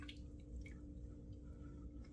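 Water runs into a bathroom sink to warm a shaving razor, a steady low wash with scattered soft drips and splashes close by, and no talking.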